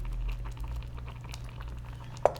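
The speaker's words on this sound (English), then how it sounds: "Bubbling nicely, a little bit of reduction happening." Tomato sauce simmers and reduces in a pan around pork sirloin, a soft steady bubbling and faint popping close up, with one small clink near the end.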